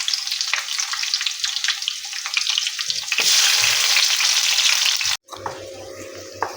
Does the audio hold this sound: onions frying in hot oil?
yes